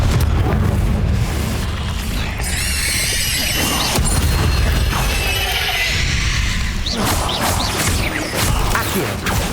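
Fiery Confringo spell blasts go off in Hogwarts Legacy amid spider fighting, loud booming impacts with crackling, whooshing magical effects and squealing screeches over a dense continuous game soundscape.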